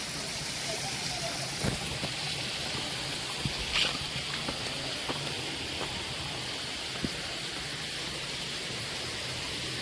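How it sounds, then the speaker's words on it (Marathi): Water from upstream streams steadily downhill near caves or waterfalls on a Gokarna trip, a continuous broadband rushing wash with occasional faint clicks and splashes, no talk. "वरून जो पाणी येतं हा वाहत खाली जातो."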